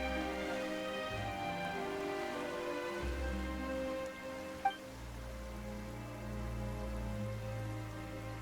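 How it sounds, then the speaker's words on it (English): Sudden rain in the video game Genshin Impact, a soft steady patter of raindrops over a low musical drone, with a brief sharp chime partway through. "Why is it raining all of a sudden?"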